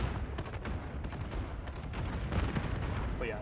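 Honey Badger (Bas-B) gunfire in Modern Warfare 3, a steady stream of rapid, dense shots with no real pauses, loud and close throughout.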